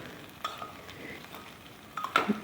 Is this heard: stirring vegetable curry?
yes